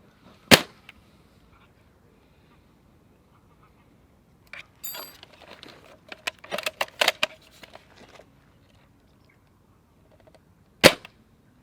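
Novritsch SSG96 airsoft sniper rifle with a new barrel and hop-up, firing two sharp, isolated shots several seconds apart, with quieter handling clicks and rattles between them and no talk.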